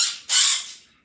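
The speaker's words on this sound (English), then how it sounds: "my bird's very loud" Pet bird letting out two harsh, loud squawks close by, the second longer and fading out, with no talk over it.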